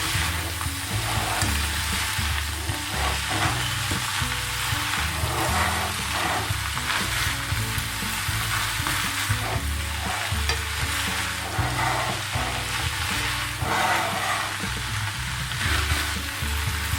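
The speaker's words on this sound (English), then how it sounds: "I'm gonna cook the potatoes until they're ready, and then our samosa mixture is ready" Potatoes for a lamb samosa filling fry and get stirred in a pan, a steady loud sizzle with scraping stir strokes throughout, no talking.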